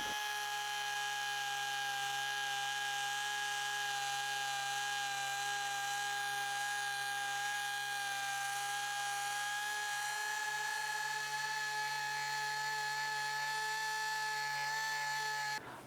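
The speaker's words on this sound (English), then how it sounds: "I'll be using 120 grit sandpaper on an orbital air sander." An orbital air sander with 120 grit sandpaper works a metal mudguard on a pedal car build, a steady, close, high-pitched whine with a constant tone that runs evenly throughout and cuts off at the very end.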